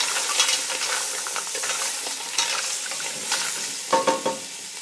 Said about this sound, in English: you're going to want to add in your mussels. Give them a good toss.